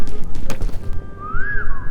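A character in the video game Peak whistles a single smooth rising-and-falling note near the end, heard over dull thuds and game background noise.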